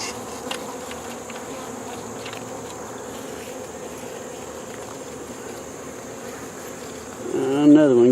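Honey bees buzz in a steady drone close around a beekeeper's head while queens are being raised, the whine swelling louder as one passes near at the end.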